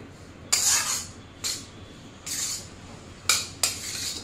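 A utensil scrapes and knocks against a pan while flour is stirred and roasted in ghee, five separate bursts at irregular intervals with quiet gaps between them.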